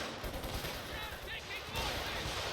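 Stuka dive bomber firing in Company of Heroes 2, a dense burst of gunfire and explosive crackle throughout, loud and continuous with a swell near the end, over faint background game noise.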